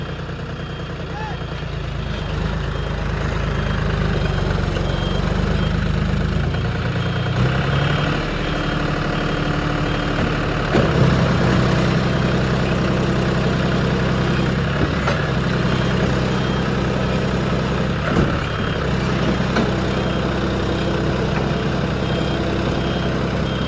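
A tractor engine idles and runs steadily at night with a deep, continuous rumble, rising a little in intensity partway through, while people talk over it.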